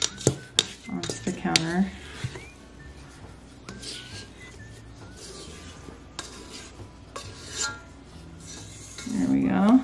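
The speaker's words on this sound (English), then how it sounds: "I just kind of scrape it out with this long handle spatula" A double batch of risen bread dough is scraped out of a bowl with a long-handled spatula onto a counter. Close, uneven scrapes and knocks of utensil on bowl sound between sticky rustles, with someone talking over them.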